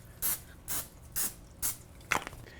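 Four short, close hissing bursts of nonstick cooking spray hit a pan, evenly spaced, followed by a faint click.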